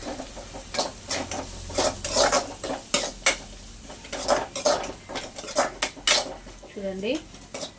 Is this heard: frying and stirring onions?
yes